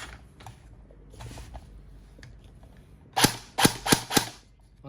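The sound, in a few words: HK416N Double Bell airsoft gun firing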